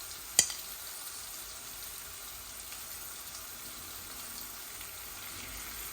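Dried kachki fish hits hot spiced oil with a brief click, followed by steady, even sizzling and frying that continues throughout.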